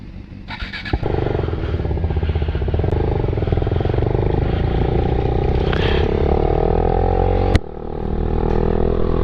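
A 636 inline-four motorcycle rides along, its engine droning loudly and steadily close by, with a brief dip and rise in the note near the end.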